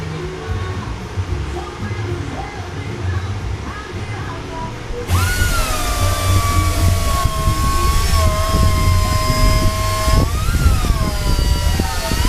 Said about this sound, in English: I'm using a Dremel tool down there